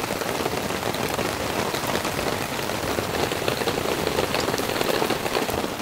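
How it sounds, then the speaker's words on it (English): Heavy rain drumming steadily on a camping tent's fly, a dense, even hiss of drops close overhead that never lets up, with no voices. "Listening to the rain hit the fly."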